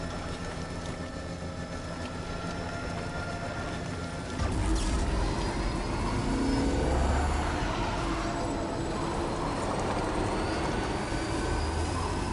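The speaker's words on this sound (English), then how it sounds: "Ah, I see the monorail." Monorail train in Death Stranding 2, a droning rumble with a whining tone that swells noticeably about a third of the way in, then stays loud and steady with no talking.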